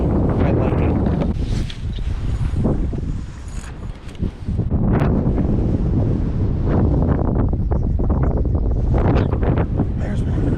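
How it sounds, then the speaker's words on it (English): Strong wind buffeting a microphone on open water during a bass fishing tournament, a loud continuous roaring rumble with gusty swells and a brief lull midway. "it is getting a little too windy for my liking"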